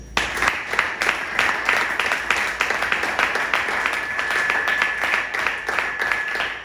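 A church congregation claps and applauds at a worship service, a steady mass of overlapping claps lasting several seconds at moderate level, with a sustained tone running faintly underneath.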